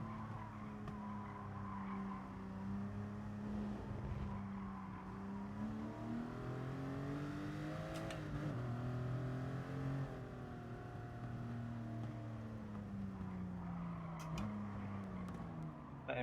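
Race cars in Gran Turismo Sport hum along the track with droning engine tones that rise and fall as they shift, steady and fairly quiet throughout.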